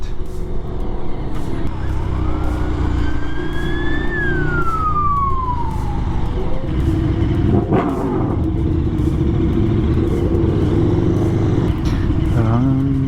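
A KTM Super Duke R motorcycle engine rumbles steadily while lane splitting through traffic, with a siren rising and falling nearby partway through.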